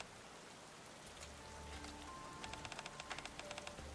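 Steady rain falls in a video game scene, a soft even hiss with scattered droplet taps growing denser toward the end, faint and without voices.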